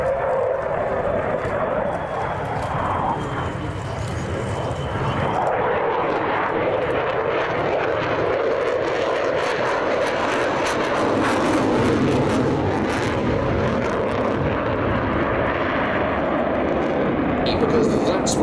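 An F-35B fighter jet roars past at an airshow in Sywell, a loud, sustained broadband engine rumble that swells and holds throughout, with a voice commenting faintly beneath it.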